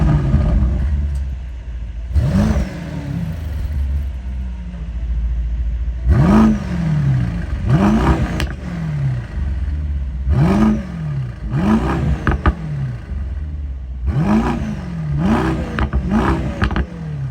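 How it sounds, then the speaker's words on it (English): A 2022 Mercedes-AMG SL 63 engine revs repeatedly, each sharp rise in pitch followed by a falling whine, in bursts of two or three throttle blips. "Do you want to hear me rev the engine on here?"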